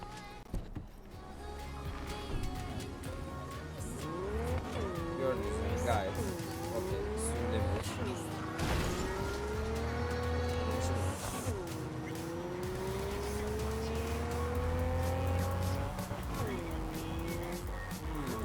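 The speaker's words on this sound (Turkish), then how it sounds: "Gördüğünüz üzere arabamız geldi." An in-game car in Cyberpunk 2077 pulls up and drives off, its engine hum rising and falling through repeated revving sweeps, fairly loud and steady throughout the scene.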